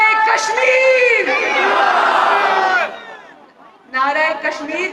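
Large political rally crowd in Bhimber, Kashmir, roaring a slogan in unison after a leader's call, a loud sustained chant that breaks off and then surges again in a second shouted burst.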